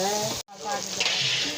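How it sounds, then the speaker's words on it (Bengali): Lentils (dal) sizzle loudly as they fry in a pot for a large batch of khichuri, a steady crackling hiss broken by one brief silent gap. "ডালটা আগে ভেজে নিব।"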